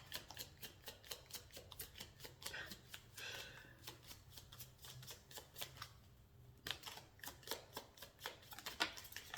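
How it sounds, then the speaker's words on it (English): A deck of tarot cards is shuffled up close in quick repeated riffles and flicks, a rapid crisp patter that pauses briefly before starting up again, with no voice. "today I'm gonna start shuffling"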